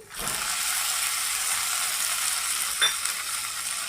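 Chopped tomato goes into a hot pan for egg uggani and starts frying, a steady close sizzle with a faint scrape or clink of stirring near the end.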